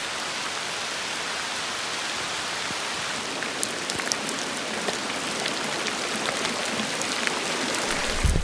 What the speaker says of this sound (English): then it rained